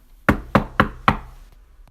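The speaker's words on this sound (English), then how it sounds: "Then they drove home and knocked on their front door." Four sharp knocks on a front door, evenly spaced and close, heard alone with no voices.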